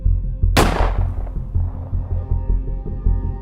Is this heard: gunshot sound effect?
yes